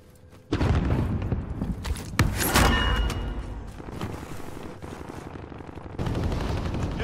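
Gunfire in a Call of Duty Warzone Halloween match, with rapid automatic bursts and sharp booming shots, loud and dense over a rumbling background, easing off partway and then picking up again.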